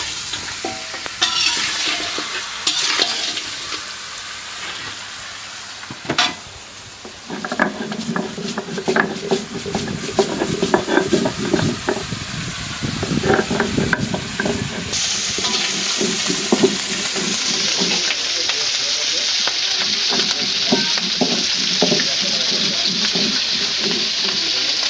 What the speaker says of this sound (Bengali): একেবারে কড়া ভাজা দিলাম